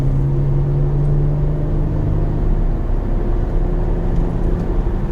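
A Peugeot 406 V6 engine idles with a low, steady rumble and a droning exhaust vibration hum, loud and close, unchanging throughout.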